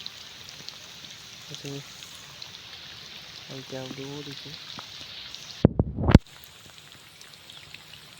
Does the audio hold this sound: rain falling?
yes